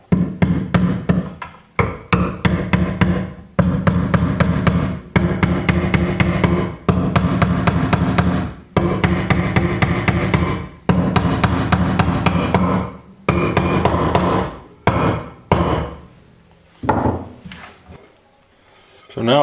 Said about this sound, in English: just take a mallet and